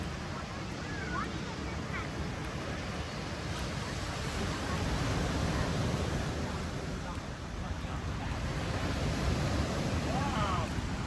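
Ocean water washing ashore at Rathtrevor Beach, a steady low rush of surf and wind noise with no breaks, heard from a short distance under a faint voice.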